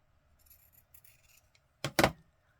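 Scissors snipping through journal paper, a pair of crisp close cuts near the end after faint rustling and handling, no talking.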